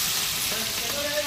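Chopped onion sizzles as it drops into a hot frying pan of whole spices for a chickpea curry, giving a steady, close, broadband hiss that holds evenly with no talk over it.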